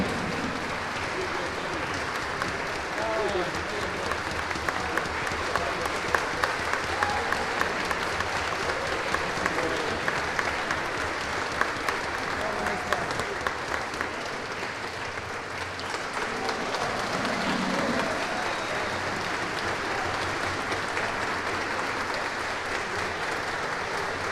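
Sustained applause from a concert audience at a sacred music festival concert, a dense steady wash of clapping holding for over twenty seconds without pause.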